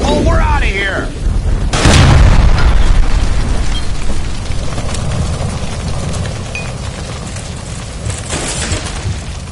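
A gas line explodes in L.A. Noire with one loud, close boom and a burst of noise, then a long rumbling decay into roaring fire-like noise.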